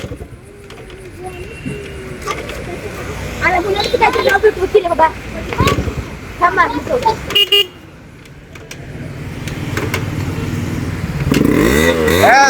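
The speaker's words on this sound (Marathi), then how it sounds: "झाली हो, गाडी चालू झालेली आहे" A two-stroke Yamaha RX 100 motorcycle engine sputters and revs in uneven bursts as it starts, with people talking nearby over the engine noise.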